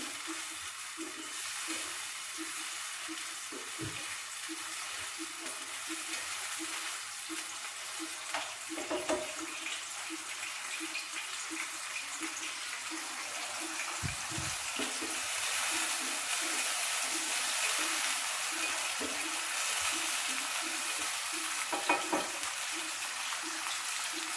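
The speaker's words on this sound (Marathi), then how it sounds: "आपल्याला चांगलं भाजून घ्यायचं आहे कांदा टोमॅटोला" Onion and tomato roasting in a pan for paneer bhurji, a soft continuous sizzle with occasional scraping clinks of stirring, fairly quiet and close.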